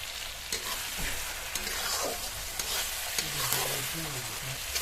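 Spice masala frying in oil in a pan for egg pulao, a steady close sizzle with occasional stirring scrapes and clinks.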